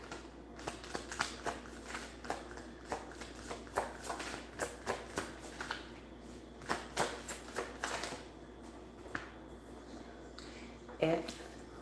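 Playing cards being shuffled close up, a quiet series of rapid riffling bursts repeating every second or so, with a faint voice briefly near the end.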